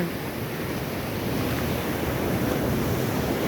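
Sea waves wash onto the shore with a continuous broad roar, mixed with wind buffeting the microphone. The sound stays steady throughout with no clear breaks.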